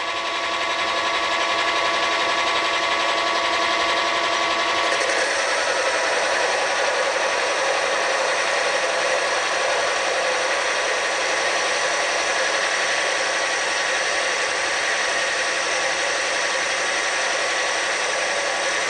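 A Logan 210 metal lathe runs steadily while cutting metric threads in stainless steel at a 40 thousandths depth of cut, a constant close mechanical whir with a slight shift partway through and no talking.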